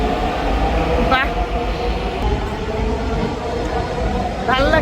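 A train pulls into a busy station with a loud, continuous low rumble and rolling roar, two brief squealing brake screeches rising over it, crowd noise in the background.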